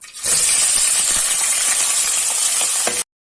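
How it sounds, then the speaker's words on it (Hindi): Mutton pieces frying in hot oil for a turnip and meat curry give a loud, steady, close sizzle with faint scraping and clicks, running for about three seconds before stopping abruptly. "अब उसी ऑयल में हमने गोश्त फ्राई करना है।"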